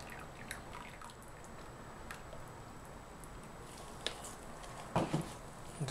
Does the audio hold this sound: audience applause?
no